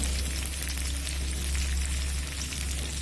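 Chopped onions fry in a pan with dried red chilies, a loud, continuous close-up sizzle with no pauses.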